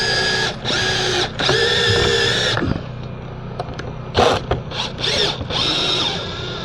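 A power tool drives lag screws during a storm-damaged 200A electrical service repair, whirring in several sustained bursts with short pauses and a ratcheting, stuttering finish, close and loud.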